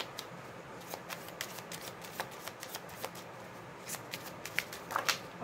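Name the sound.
shuffling tarot cards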